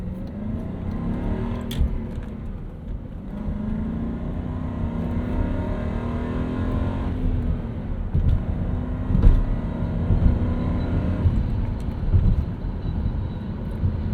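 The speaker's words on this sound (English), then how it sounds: "we're gonna get this E38 here out on the open road" A 1996 BMW 735i E38 with a five-speed manual cruising on an open road, a steady low engine drone and road rumble from inside the cabin, rising slightly midway as the car picks up pace.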